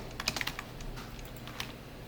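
Quiet computer keyboard keys clicked in a short burst, a few quick taps near the start and a lone tap later, typed as a shortcut while coding a JDBC text bulletin board program, over faint room hum.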